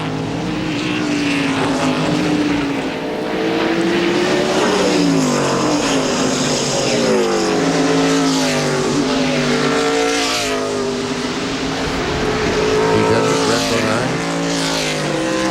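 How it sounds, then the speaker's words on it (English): NASCAR stock cars racing in the 1997 Save Mart Supermarkets 300, a loud continuous engine roar with pitch sweeping up and down as cars pass and shift, sustained throughout. "Kyle Petty now. He is up to 14th, having passed Jimmy Spencer."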